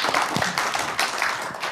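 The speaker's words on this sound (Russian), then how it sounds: "Аплодисменты, спасибо." Audience applause at a regional evening concert after a folk music ensemble wins a prize, a fairly loud continuous patter of many hands clapping with individual claps standing out, no talking.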